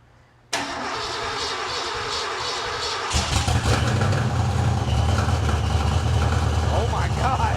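A high-compression, big-boost Ford 302 V8 on stock rods and crank cranks over and catches, then settles into a loud, steady, rumbling idle with the revs rising slightly after a few seconds.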